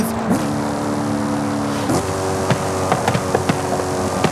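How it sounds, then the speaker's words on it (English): A Maserati GranTurismo in Forza Horizon 5 shifts down, with a loud engine note that drops in pitch at each shift and sharp pops and blips in a quick run of shifts. "the downshift of the GranTurismo gives the car so much character in real life, but in Forza Horizon 5"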